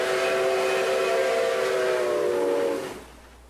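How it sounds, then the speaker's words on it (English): The Nickel Plate Road 765 steam locomotive's whistle blows one long, steady chord that holds for nearly three seconds, then cuts off into quiet rumble. "you get to hear 765's signature whistle for,"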